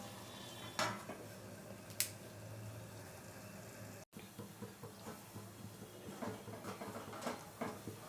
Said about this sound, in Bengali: আর একটু ঢাকনা দিয়ে রাখবো।